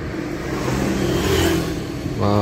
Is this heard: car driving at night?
yes